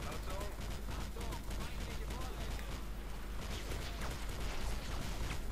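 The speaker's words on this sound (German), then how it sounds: "Was schießen hier auf mich?" Rapid gunfire crackles almost nonstop in a multiplayer video game with helicopters, dense bursts of shots and mechanical clatter under people talking throughout.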